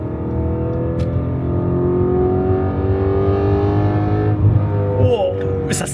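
A 4.2-litre V8 in an Audi RS5 (B8.5) revving high around 6000 rpm, a loud sustained engine roar with rising harmonics, heard from inside the car, easing off near the end.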